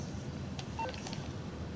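Touch-tone telephone keypad being dialed to call someone: a few short electronic beeps in quick succession over a steady low background hum, fairly faint, with no voices.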